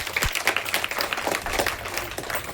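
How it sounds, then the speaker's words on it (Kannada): A seated audience at a district awareness program gives a brief burst of scattered hand clapping, fairly faint and steady, without any voices over it. "ಚಪ್ಪಾಳೆ ಬರಲಿ."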